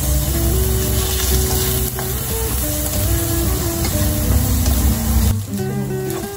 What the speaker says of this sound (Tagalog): Lagay na natin ang ating sibuyas.